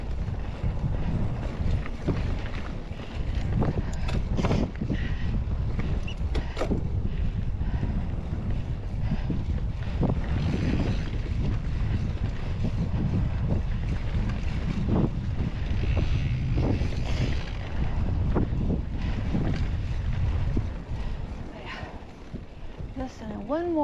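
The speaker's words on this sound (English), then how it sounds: "That wind feels good." Steady wind rushes and buffets the microphone outdoors on a canyon rim in Utah, a constant loud roar lasting throughout with occasional gusts.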